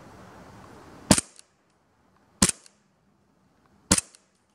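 Three sharp, separate shots from a Novritsch SSP1 airsoft pistol fired at a distant target outdoors, spaced about a second and a half apart, each a crisp crack with a brief tail against quiet background.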